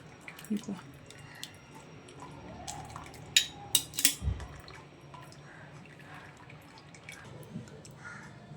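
Water drips and splashes as it drains from boiled potato slices lifted out of a large cooking pot, a few soft wet spatters clustering briefly amid faint kitchen sounds.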